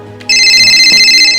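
A mobile phone ringtone starts suddenly and plays loud and steady as a bright electronic tone, heard close with no talking over it.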